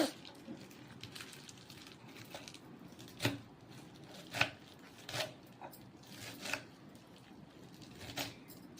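Spinach being finely chopped with a knife, heard as quiet, irregular knife taps and thuds spread over several seconds, with a few louder strikes standing out against a faint background.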